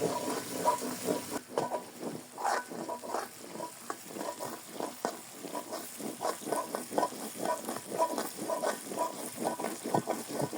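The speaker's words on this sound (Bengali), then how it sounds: "মশলাটা একটু কিন্তু সময় নিয়ে কষাতে হবে" Spice masala for chicken korma being sautéed and stirred in a pan, with steady sizzling and frying broken by frequent short scraping strokes of stirring, moderately close and with no talking.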